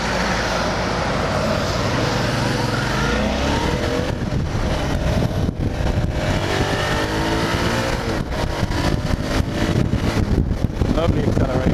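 Suzuki V-Strom 650XT 2019 motorcycle with a 650 twin engine accelerating on an open road, a steady loud engine roar rising in pitch with heavy wind rush throughout.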